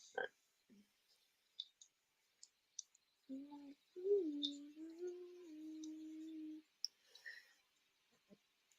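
Light fingertip taps on a phone screen while a short note is typed, the sparse faint clicks scattered across the clip, with a steady hummed or voiced tone in the middle.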